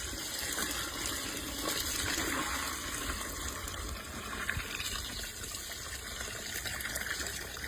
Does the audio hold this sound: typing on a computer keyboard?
no